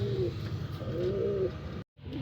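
Racing pigeons coo in low, soft, repeated phrases, steady through most of the moment before a brief break near the end.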